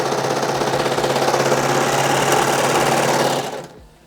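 A Baby Lock serger overlock machine stitches through a couple of layers of denim, its fast, steady mechanical whir running loud and continuous for about three and a half seconds before stopping abruptly.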